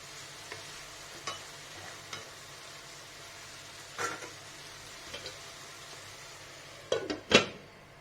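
Chili powder and spices fry quietly in a pan with a soft, faint sizzle. A spoon scrapes and clacks against the pan now and then, with a louder cluster of stirring knocks near the end and no speech.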